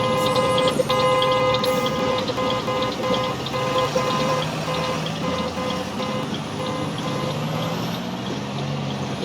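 Big yellow buses sound their horns at a parade, tonal honks layered over rumbling engines, continuous and fairly loud with traffic noise around them.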